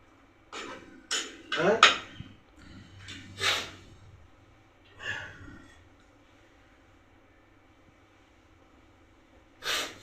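Pot lid and cookware clatter near at hand during home cooking, a handful of sharp metallic clinks and knocks spread unevenly across the clip, with a quiet stretch before one last clank.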